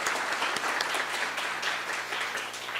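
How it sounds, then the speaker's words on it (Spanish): An audience at a university event on student rights claps steadily, a dense, even wash of applause that holds at a constant level from start to finish, with no voices on top. "Brindemos un fuerte aplauso"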